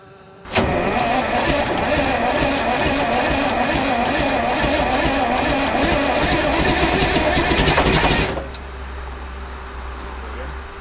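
A big old diesel engine in a 1975 Freightliner FLT truck, with many exhaust leaks, turns over and catches, then runs with a loud, rough, rattling roar for several seconds before abruptly dropping to a lower idle hum.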